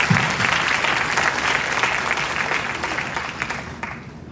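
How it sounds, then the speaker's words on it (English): An audience gives a round of applause that begins full and gradually thins out, a dense crackle of many hands fading toward the end. "Let's give them a round of applause."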